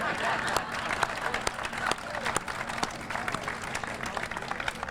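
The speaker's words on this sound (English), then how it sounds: "Could I get a round of applause for Mike?" Applause from an outdoor celebration crowd for a city councilmember at the Stillwater Lift Bridge and Loop Trail event, a steady wash of many hands clapping with sharp individual claps, some voices mixed in.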